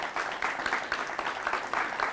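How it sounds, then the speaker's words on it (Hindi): An audience at a panel discussion on women's issues in Chhattisgarh claps steadily to greet a women's activist guest, a continuous, fairly close wash of hands with slight rises and dips in intensity. "जोरदार तालियां हो जाएं"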